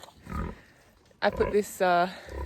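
Pigs feeding on grass in a field, a few close grunts and snorts in short bursts with one harmonic squeal-like call, over low outdoor background.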